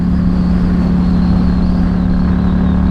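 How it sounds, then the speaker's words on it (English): A 2022 Yamaha MT-07 motorcycle fitted with an Akrapovic exhaust riding along a New Mexico road, its steady engine drone largely buried under loud, constant wind rush. "the sound of the exhaust doesn't come through as good as it used to."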